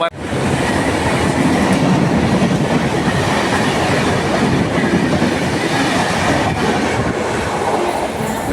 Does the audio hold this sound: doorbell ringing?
no